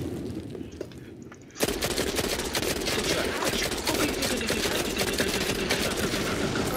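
Rapid, dense automatic gunfire in the mobile shooter Modern Combat 5, loud and close. It bursts in after a quieter opening and continues as a sustained rattling volley to the end.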